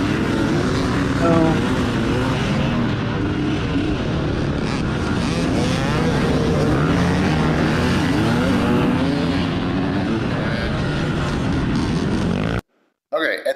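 Motorbikes race in a mud race, engines droning and revving in shifting pitch sweeps. The roar is loud and continuous, masked at times by wind and heavy rumble, and cuts off abruptly just before the end.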